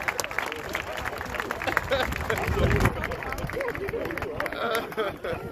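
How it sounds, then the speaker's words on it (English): A crowd at a peaceful protest in a town gives a round of applause, dense steady clapping mixed with chatter and cheering that stays loud throughout. "so we're going to give him a round of applause anyways"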